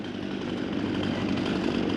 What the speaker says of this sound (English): that's what the chainsaw for, is to cut it so that it's center